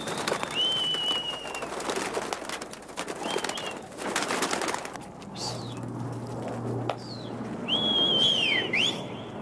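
Flying pigeons on a rooftop on 135th Street in Manhattan, New York City, with fluttering wings and scattered bird calls and whistles over steady outdoor rooftop noise.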